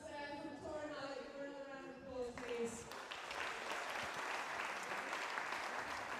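Crowd applause at a darts match swells and fills the space with dense, steady clapping, following a moment of music and voices at the start.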